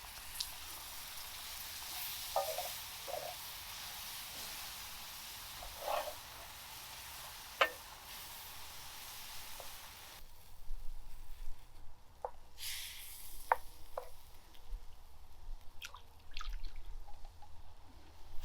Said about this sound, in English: now I'll add the milk a little bit at a time